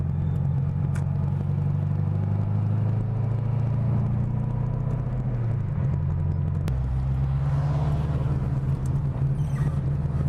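A cammed Chevrolet C6 Corvette V8 rumbles while driving, a deep continuous lopey drone that shifts pitch as revs change midway, steady and close with no talk.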